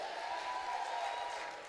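Congregation acclamation and applause at a church service, a steady broad wash of clapping and cheering from the assembly, faint and distant, with no speech over it.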